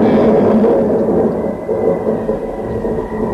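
Thunderstorm sound effect in a 1955 Romanian radio production of Shakespeare's King Lear: a loud, continuous rolling rumble with hissing, rain-like noise, sustained throughout with no voices.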